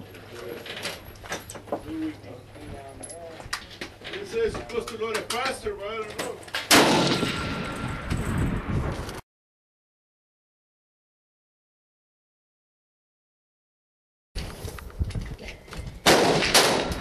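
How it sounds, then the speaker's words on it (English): Loud gunshots crack at an outdoor shooting range, a burst of sharp reports mixed with voices and movement, then a long gap of silence before more heavy blasts close out the clip. "Chad, you want to shoot again?"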